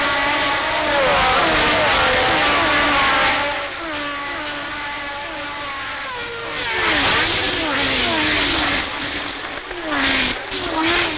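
Formula One cars jockeying for position at the British Grand Prix, a loud whining engine drone with repeated rising and falling pitch sweeps as cars pass, continuous for the whole stretch.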